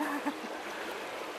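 River water flows and washes around a boat in the middle of the river, a steady, broad rushing with a few small splashes, fairly close and even throughout.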